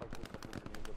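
A German MG42 machine gun fires in a D-Day themed video game, a rapid, even burst of shots lasting about a second, moderately loud and continuous.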